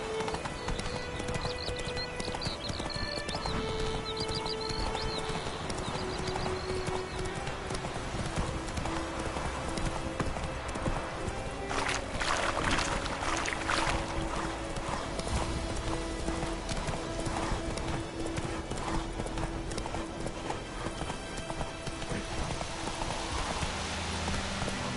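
Roach, the horse in The Witcher 3, galloping with fast, steady clip-clop hoofbeats close by, over a soft rain-like background wash, with a burst of clattering in the middle and no speech.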